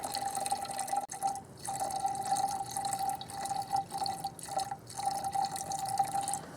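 Coolant trickles and splashes into the overflow reservoir of a 2005 Chevy Aveo with an overheating fault, a steady close-up liquid pour with brief pauses, no talking.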